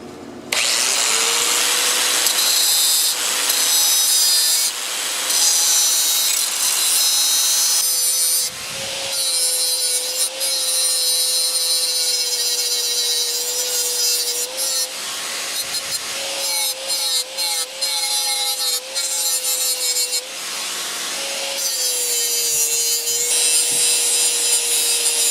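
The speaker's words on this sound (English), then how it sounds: "I brought my angle grinder with me" An angle grinder sharpens the steel blades of a zero turn mower and a lawn tractor, giving a loud, continuous high whine that dips and resumes in several passes over about twenty-five seconds with no talk.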